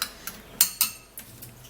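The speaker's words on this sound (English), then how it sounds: "So give it a little stir" A spoon stirring an onion mixture in a bowl, a handful of light clinks and taps in uneven rhythm, close and fairly soft.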